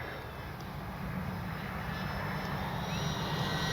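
An FMS PC-21 Pilatus RC airplane flies past at full speed with the wind, a steady electric motor and propeller whine under broad wind noise, holding even and gradually swelling slightly as it nears.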